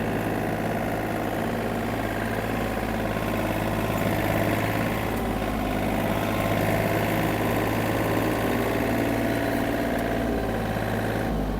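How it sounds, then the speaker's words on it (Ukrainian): A Yanmar FX-255 Japanese mini tractor's small engine runs steadily and loudly throughout, a continuous chugging rumble with no pauses or voices. "Думаю, вам чути навіть звук двигуна."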